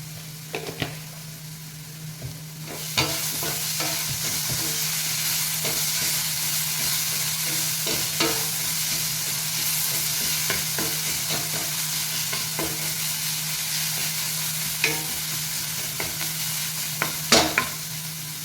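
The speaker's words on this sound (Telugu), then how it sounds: "ఉల్లిపాయ ఎంతవరకు వేగిందో వేగొచ్చింది" Chopped onions frying in a pan for a stuffed bitter gourd curry give a steady close sizzle throughout, broken by scraping stirs and clicks. The sound swells sharply after a few seconds, with a low steady hum underneath.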